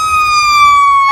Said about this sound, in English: Sounds of fire truck sirens